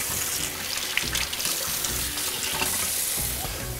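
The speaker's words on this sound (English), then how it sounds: "Turn the hot water on." Hot water runs steadily from a tap into a sink under new copper plumbing, a continuous close rushing splash with no talk over it.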